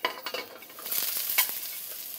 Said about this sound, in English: And hear that sizzle.